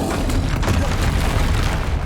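Confringo blast spell going off in Hogwarts Legacy, a dense continuous booming roar with crackling bursts, loud and sustained throughout without pause.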